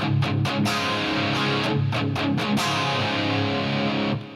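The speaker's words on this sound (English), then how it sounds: "It sounds like a very thin, lifeless guitar with 20-year-old strings on it." Electric guitar played through a Line 6 Helix preset, a thin, lifeless tone like old strings, strummed with several sharp picked attacks in the first half before chords ring out and cut off near the end.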